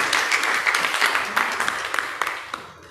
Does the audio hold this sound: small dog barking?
no